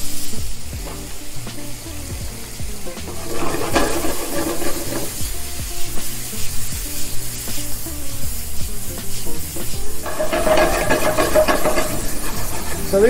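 Shrimp heavily seasoned with Old Bay sizzle and fry in a hot pan, a steady crackling hiss that swells as the shrimp are stirred and moved, close and continuous.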